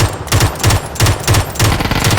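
An automatic gun in a video game fires through its ammo in six or seven rapid bursts, loud and close, each burst a rattling clatter with short gaps between them and no talk.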